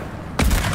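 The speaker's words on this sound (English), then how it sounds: "Watch this shot." Single loud gunshot in a video game trick shot, a sharp close blast at about 0.4 s following a quiet lead-in, with a brief rumbling tail.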